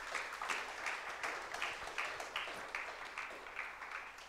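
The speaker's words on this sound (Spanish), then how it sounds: "Dale un aplauso al Señor si lo puedes creer" A church congregation claps together in a steady rhythmic beat, roughly two claps per second, filling the room at a moderate distance with no talking over it.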